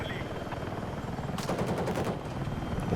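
Attack helicopter in the video game Battlefield 6, its steady rotor drone running throughout with bursts of rapid machine-gun fire cutting in about halfway through, loud and close.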